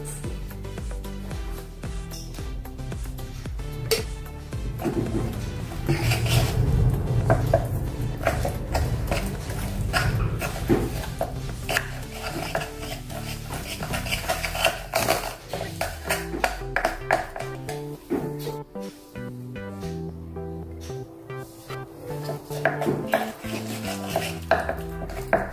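Snack dough for crispy khasta nashta is worked by hand in a pan, giving irregular close knocks, scrapes and clatters of utensils against metal with occasional louder clanks.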